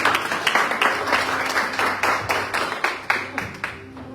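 A church congregation applauding during a Bible study service, a dense run of hand claps with distinct sharp beats, loud and close, continuing for several seconds before thinning toward the end.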